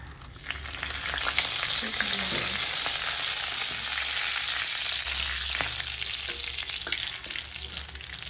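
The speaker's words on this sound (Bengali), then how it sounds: "আমি এখন তেজপাতা দারচিনি গোলমরিচ লবঙ্গ আর জিরা এলাচ" Whole spices such as bay leaf, cinnamon, peppercorns, cloves, cumin and cardamom sizzle steadily in hot oil in a pan just after a cauliflower and potato fry, a loud, continuous crackling hiss with occasional stirring and no talk.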